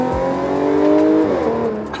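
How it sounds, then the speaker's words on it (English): An Audi S4 with a stage 1 tune from Integrated Engineering accelerates hard in second gear, its engine note rising loud and continuous with a brief shift partway through. "I didn't expect stage 1 tune from integrated engineering to pull this hard"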